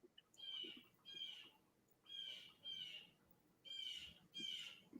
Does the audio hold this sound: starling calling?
yes